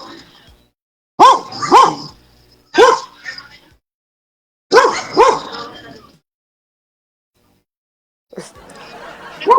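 Several loud, close barks from a pet goat in short bursts separated by silences, followed by a rougher noisy vocal sound at the end.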